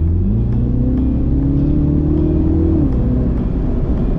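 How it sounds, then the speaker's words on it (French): A Mini Cooper JCW engine revs up during a short, loud acceleration from inside the car, its pitch climbing steadily for about three seconds, then easing off after a gear change. "donc je fais une petite accélération parce que je m'en lasse pas"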